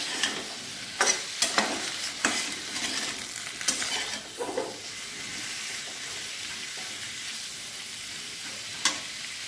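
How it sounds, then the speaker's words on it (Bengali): Ginger paste and spices frying in hot oil, a steady sizzle broken by repeated sharp scrapes and knocks of a spoon against the pan, busiest early on and then settling into an even hiss. "ভেজে নেব।"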